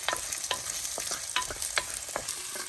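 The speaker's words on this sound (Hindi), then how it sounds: "भिंडी को प्याज के साथ भून लेते हैं।" Okra sautés with onion in a pan for a prawn and okra curry: a soft, low sizzle runs underneath while a spatula scrapes and taps the pan every half second or so.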